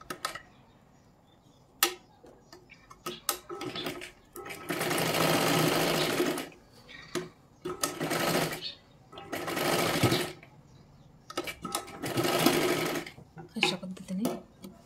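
A sewing machine stitches a katori blouse in several bursts of steady whirring, separated by pauses filled with handling noises and a little speech.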